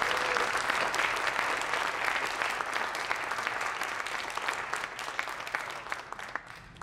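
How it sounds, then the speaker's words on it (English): An audience applauds National Art Honor Society inductees at a ceremony, a steady crowd-wide clapping with a few crisp nearby claps standing out as it slowly tapers. "let's give another round of applause to our inductees"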